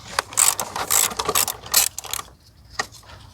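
A hand ratchet clicks rapidly in quick bursts while loosening an E14 screw on a BMW N20 engine valve cover, close and crisp, then a single softer click after a short pause.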